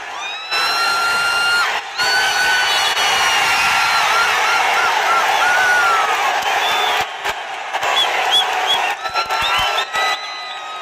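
At a tug-of-war final in Areekkara, Kottayam, a large crowd cheers loudly and continuously with whoops, whistles and scattered clapping, surging in waves and briefly dipping between bursts.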